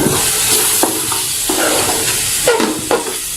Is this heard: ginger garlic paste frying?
yes